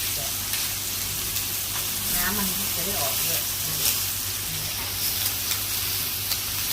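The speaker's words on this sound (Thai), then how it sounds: "เดี๋ยวเรามารอดูตอนทอดกันเลยนะคะ" Hamburger patties fry in hot oil in a home kitchen, giving a steady, dense sizzle and hiss throughout, with faint talk and stirring noises beneath it.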